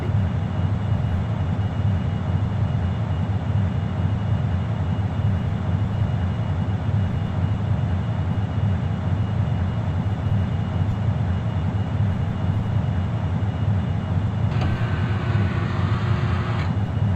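Steady, loud roar of DG-S spacecraft scramjet engines in the Orbiter 2016 game, a continuous broadband rumble lasting throughout with a faint tone entering near the end.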